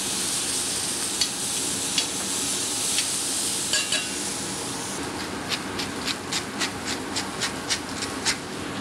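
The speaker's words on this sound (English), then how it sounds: "Cook with the onions, cook the chili peppers, add some chipotle," Onions and chili peppers with chipotle cook in a hot pan, giving a steady broadband sizzle with scattered clicks of stirring that grow into a regular tapping rhythm in the second half, fairly close and with no talk.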